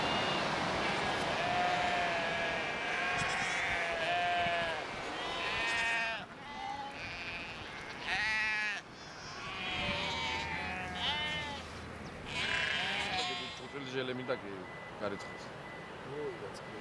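Sheep bleat repeatedly across green mountain pastures in the Caucasus, several animals calling near and far in overlapping bursts over a steady outdoor background.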